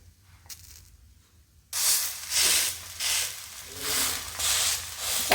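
Soya curry dosa sizzling on a hot pan just after being flipped, a sudden loud hiss that swells and fades in repeated waves of steamy crackle, close and with no talking.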